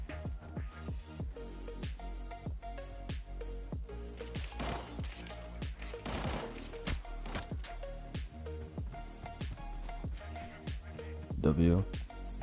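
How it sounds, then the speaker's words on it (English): Gunfire in the video game Arena Breakout, a dense run of sharp repeated shots crackling throughout alongside game music and a speaking voice, with a louder burst near the end. "Where the hell is shots coming from?"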